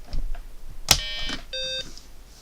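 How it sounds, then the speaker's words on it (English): A BBC Micro Model B with a newly installed Turbo MMC gives a sharp click followed by a clear, loud electronic startup beep, then a second shorter tone, in a quiet room. "Beep."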